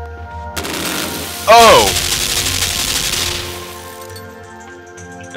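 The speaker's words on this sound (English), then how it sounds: "Is that a laser? That shit's gonna shoot me so fast." Laser fire in the video game Limbo: a sudden loud zapping blast with a sweeping warble rises over a dense crackling roar, then fades over a couple of seconds; a voice exclaims briefly during it.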